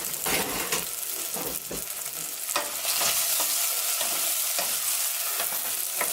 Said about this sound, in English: I'm going to turn it down to 4 because it's frying really fast